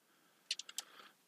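A short burst of keys clicking on a computer keyboard, four or five quick taps in an otherwise quiet room, faint and close.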